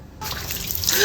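Water runs from a tap at a newly built cement outdoor bathing spot, a steady splashing rush that starts abruptly and continues close and loud, with no talk.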